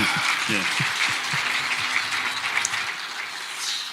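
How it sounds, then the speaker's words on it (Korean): Audience applause at a political lecture, a dense patter of clapping with a voice speaking briefly over the start before the clapping continues alone at a moderate level. "자, 박수하겠습니다."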